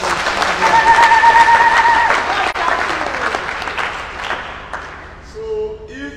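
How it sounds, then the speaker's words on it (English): An outdoor political rally crowd in a Nigerian village claps in a dense, loud burst of applause that gradually fades over several seconds. A voice speaks at the tail end. "Clap for God."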